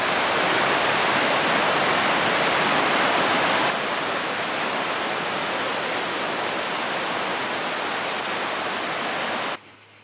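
Water rushes loudly and steadily in Bosnia, a dense continuous roar like a nearby torrent, with no voices over it.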